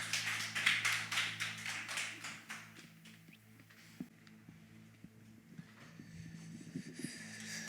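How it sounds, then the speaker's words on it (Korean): A congregation at a Korean Sunday worship service claps, with a dense patter of applause that thins and fades over about three seconds, leaving a quiet hall with occasional faint taps. "하나님께 다시 한번 감사의 박수 올려드리시겠습니다"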